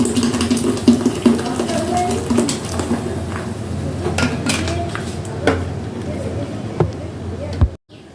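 Watermelon sherbet with crushed ice and a pinch of spice stirred in a vessel, giving a run of clinking, scraping and sloshing knocks, closely miked, under background speech, ending in a sudden cut to silence.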